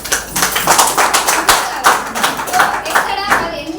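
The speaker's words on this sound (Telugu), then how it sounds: "Super claps." Audience at a testimony gathering claps in rhythmic bursts, a close, lively run of hand claps with a voice speaking over them.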